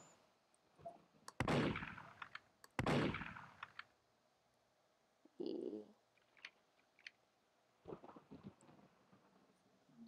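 Pistol shots ring out in a Roblox-style video game, two loud close bursts followed by scattered quieter cracks and clicks, with gaps of near silence between them.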